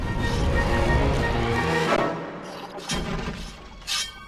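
A loud shattering crash of breaking objects in the Wallace & Gromit Project Zoo video game, a dense burst of smashing debris that tapers off, followed by a few scattered clattering impacts.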